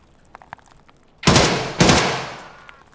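Gunfire in the Escape from Tarkov video game: two loud, sharp bursts about half a second apart, each ringing off in a decaying tail, following a few faint ticks.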